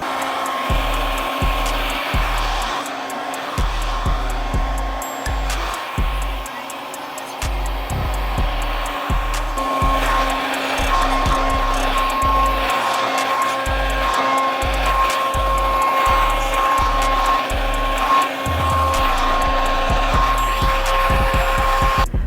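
Hair dryer blowing curly hair dry, a loud continuous whooshing roar held close throughout with a steady hum, its airflow pulsing slightly as the dryer moves.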